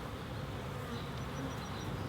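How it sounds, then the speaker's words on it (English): Honey bees drone steadily at an open beehive during a honey harvest, a dense, continuous buzzing swarm close and fairly loud with no talking. "These are the worker bees, are the female bees."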